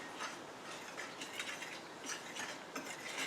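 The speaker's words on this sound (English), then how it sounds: "So I'm going to mix all that up together." Dry sugar, baking soda and salt being stirred together in a mixing bowl, giving a steady run of light scraping and clinking strokes at close range, with no voices.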